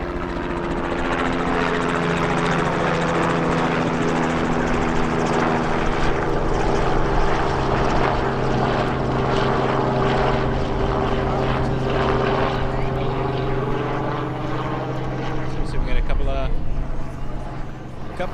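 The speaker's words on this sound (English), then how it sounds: "There's also a helicopter." A helicopter's steady rotor and engine drone fills the air continuously at Toronto's Billy Bishop island airport, loud and sustained with a faint throbbing, while voices talk underneath.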